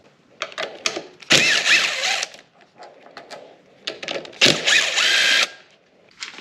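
A power drill or driver backs 10mm bolts out of a Suzuki DRZ400 motorcycle, with two loud whirring bursts and several shorter spins and ratcheting clicks close by, no talking.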